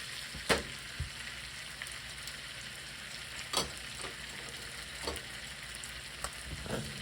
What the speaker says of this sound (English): look at that pan, just sizzling, eh?